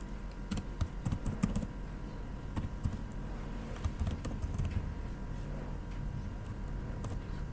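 Java code is typed on a computer keyboard in a quiet room, with quick, uneven clusters of close key clicks and short pauses between bursts.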